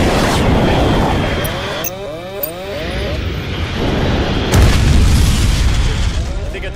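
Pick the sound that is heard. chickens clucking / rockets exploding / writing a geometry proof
rockets exploding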